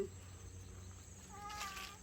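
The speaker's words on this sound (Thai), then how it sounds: "นี่น้องแมวตามมาอีกแล้วนี่" A cat meows once, a short, clear call near the end. Before it there is a quiet, still stretch with faint background hum. The setting is a farm stay in Suan Phueng, Thailand.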